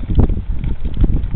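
Gusty wind blows outdoors across the microphone, a steady low rumble with buffeting swells throughout, loud and close, with no clear talk over it.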